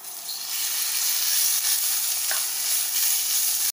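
Sliced pork sizzles and fries steadily in a hot pan with garlic and ginger, a continuous close, even crackle with a brief spatter midway and no voices.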